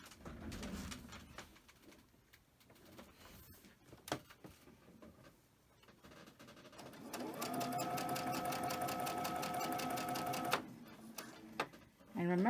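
A sewing machine joins quilt pieces into a row, running in a steady, fast mechanical whir for several seconds before stopping, with quieter handling noises and faint talk earlier.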